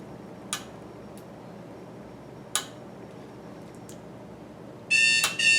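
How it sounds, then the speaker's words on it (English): A kitchen reminder alarm sounds near the end, giving a short burst of rapid electronic beeping after a few faint ticks or clicks in an otherwise quiet room while beef braises in the oven. "That's my alarm to remind me."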